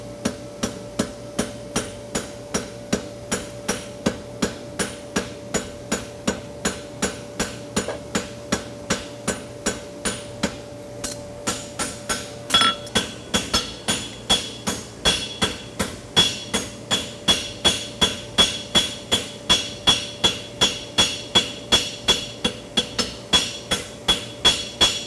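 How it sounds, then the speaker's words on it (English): Steady rhythmic hammer blows of a crosspin hammer on hot steel, drawing a clip on a lateral bar horseshoe at a farrier competition, dozens of evenly spaced sharp metallic strikes close up, alone with a constant background hum. "Now we need a clip with a crosspin hammer"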